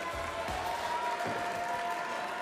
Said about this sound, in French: On peut les applaudir chaleureusement, mesdames et messieurs.